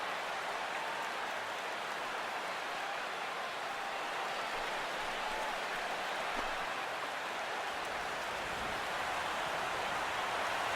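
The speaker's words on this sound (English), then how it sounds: "The rain, as we've mentioned, coming down fairly steadily here at game time." Steady rain falling on a baseball stadium at game time in MLB The Show 16, a constant even hiss of downpour that stays at the same level throughout, with no voices.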